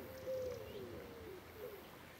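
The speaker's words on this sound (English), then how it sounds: "Accompaniment of doves." Doves coo softly in the countryside on a summer walk near elderberry bushes, a few faint low calls against quiet outdoor ambience.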